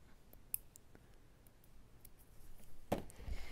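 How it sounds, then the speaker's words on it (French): A few crisp, quiet snips of scissors cutting crochet yarn, isolated clicks spread across a few seconds, with a slightly louder snip near the end and no talking. "vous pouvez couper votre fil"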